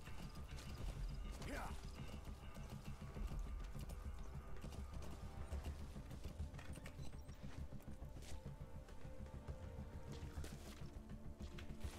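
Horse hooves clip-clopping in Metal Gear Solid 5: The Phantom Pain, a steady rhythmic trot over rattling mechanical game sounds, continuing throughout.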